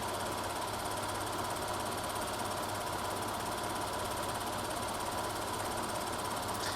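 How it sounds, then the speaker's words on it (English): A 2020 Ford F-150 XL pickup idles steadily up close, its engine carrying a constant low hum with a faint, slight tick running through it, heard alone with no talking. "this is the sound of the engine. I'm going to shut up for a minute. You can hear it."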